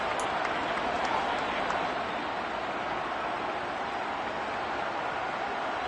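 Home crowd at a Vikings vs Packers football game roaring and cheering, a steady dense wall of broadband noise with no breaks, loud and continuous throughout.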